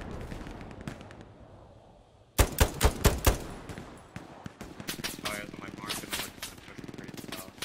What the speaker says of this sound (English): I got an MG42 in that window on my ping overlooking where we're trying to approach.